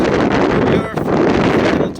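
Strong wind on a very windy day outdoors in Reykjavik, Iceland, roaring steadily and buffeting the microphone with loud gusty rumble throughout.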